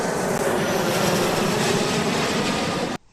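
An aeroplane sound effect for a children's alphabet lesson roars as a loud, steady broadband engine rush that holds evenly and then cuts off abruptly near the end.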